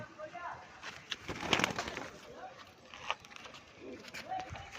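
A pigeon cooing softly in short low bursts near a person who talks over much of it, with quiet background noise in between.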